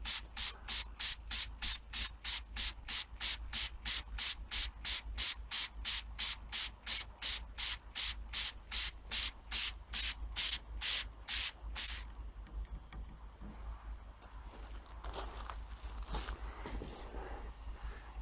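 A model steam engine runs with rapid, regular hissing puffs of exhaust, about three per second, loud and close for twelve seconds, then the puffing stops and only a softer hiss and faint rattles remain.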